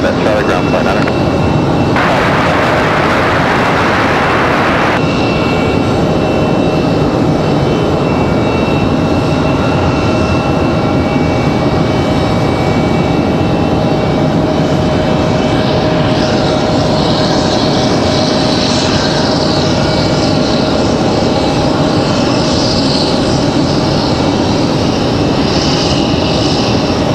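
Airplane on its takeoff roll at Raleigh-Durham International Airport, a loud, continuous engine roar that holds steady throughout, with a brief burst of radio chatter early on.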